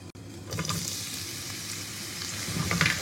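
Chopped onion frying in a kadai of hot ghee and oil, a steady close sizzle with stirring scrapes throughout and a brief louder crackle near the end, no talking.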